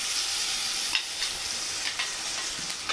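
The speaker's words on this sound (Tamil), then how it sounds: "இஞ்சி பூண்டு பேஸ்ட் போட்டுக்கலாம்" Ginger garlic paste fries in a pan for a prawn curry, giving a steady, close, bright sizzle with a few light stirring scrapes and no voices.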